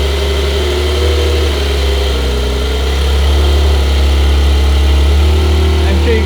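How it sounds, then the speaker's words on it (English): A car idles steadily after a cold start, a low continuous engine drone with faint vibration running throughout, fairly close and loud, with no talk over it. "There's a cold start."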